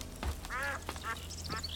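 A loud goose honks in The Witcher 2: Assassins of Kings, giving a few nasal honks close by over steady game ambience with no talking.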